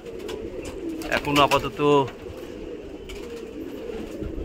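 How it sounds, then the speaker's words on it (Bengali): Pigeons at a pigeon shelter coo in a short rolling burst over steady outdoor hum, with someone talking nearby. "এই যে এই পায়রাগুলো উড়িয়েছিলাম"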